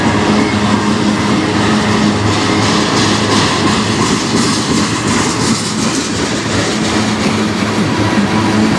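A long manifest freight train hauled by six CN, KCS and BNSF locomotives rolls past close by, a loud continuous rumble of wheels and wagons with steady rail clatter.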